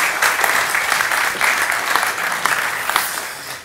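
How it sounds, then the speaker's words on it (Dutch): Warm, close applause from a Dutch lecture audience welcoming a crying researcher, dense hand clapping throughout that dips slightly near the end. "Eerst een hartelijk applaus."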